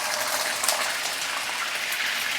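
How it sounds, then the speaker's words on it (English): Prawns fry in hot oil with a dense, steady sizzling hiss and faint crackling splatters, loud and close, with no voices. "Prawn always contain water, so it will splatter."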